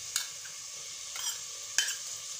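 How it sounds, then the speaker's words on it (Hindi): Ginger, garlic, green chilli and cumin paste frying in a pan for a capsicum dish: a soft, steady sizzle with a few brief stirring scrapes. "अब तब तक भूनेंगे जब तक अदरक लहसुन का कच्चापन नहीं निकल जाता"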